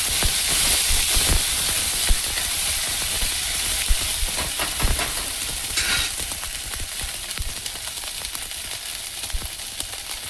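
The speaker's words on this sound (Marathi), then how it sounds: "आता आपण यामध्ये टाकूया हे आलं लसूण पेस्ट आणि हे करून घेऊया मिक्स" Ginger-garlic paste sizzles steadily in a hot pan with green chillies and curry leaves while a spoon stirs and scrapes through it, a continuous close frying hiss with occasional clicks, for a spicy brinjal and potato curry.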